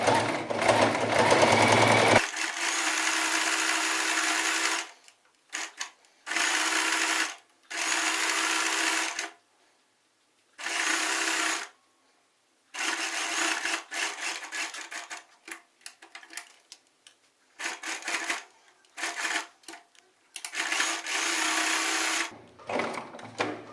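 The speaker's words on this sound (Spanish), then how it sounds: "voy a dar toda la vuelta sobre la capellada, así que cuando yo termine voy a encimar un par de puntadas acá en el comienzo" A sewing machine stitches all the way around a slipper upper in repeated runs. Each loud, fast, buzzing burst lasts a few seconds and is separated by short silences.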